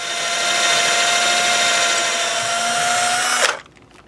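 A power drill fitted with a long drill bit, boring during a guitar build, runs as one loud continuous whine for about three and a half seconds before stopping abruptly and leaving only quiet.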